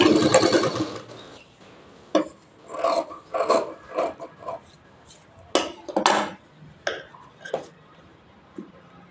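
A sewing machine joins pieces of a 36-inch double katori blouse in short separate stitching runs, each a quick whirring rattle followed by pauses, with some clinking handling noise between bursts.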